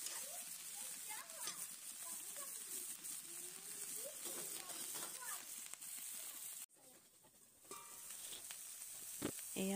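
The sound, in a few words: frying Amita tree flowers with garlic and onion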